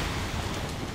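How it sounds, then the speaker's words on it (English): Ocean waves in the survival horror game Cold Fear: a dense, continuous wash of surf and wind-like noise, steady and fairly loud throughout the brief moment, with no voices. "I've dealt with worse freaking waves and I'm not dead"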